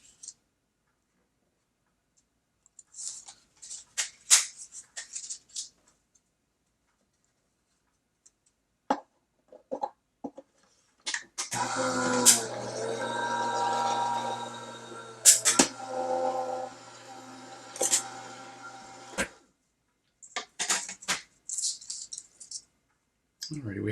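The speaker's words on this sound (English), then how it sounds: "And we will run that through the die cutting machine." A die cutting machine runs a sheet of Chocolate Bar cardstock through its rollers, giving a steady mechanical grinding hum of about eight seconds, loud and close, framed by scattered clicks and handling sounds before and after.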